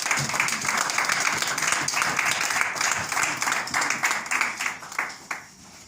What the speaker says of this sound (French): Je vous invite à applaudir un peu